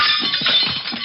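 A brief burst of a lamp shattering, glass breaking and fragments clattering, bright and crunchy, heard up close with no voices.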